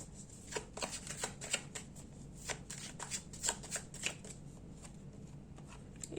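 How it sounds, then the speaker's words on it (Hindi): A deck of tarot cards being shuffled close up, a run of quick riffling flutters and soft slaps in an uneven rhythm, with a low room murmur underneath and no speech. "आपको थोड़ा सा पेशेंस दिखानी पड़ेगी यहाँ पर, क्योंकि मैंने कार्ड्स को शफल करना है।"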